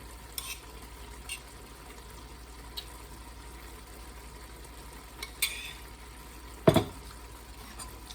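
A vegetable dish stir-frying in a pan, with a soft continuous sizzle broken by occasional light scrapes and one louder clatter of the utensil near the end.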